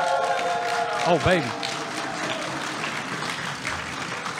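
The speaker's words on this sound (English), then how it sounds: "Can we get the crowd going crazy for this?" A tournament crowd at the SnapCon grand finals claps and cheers in a steady wash of applause, while an announcer's voice sounds over it.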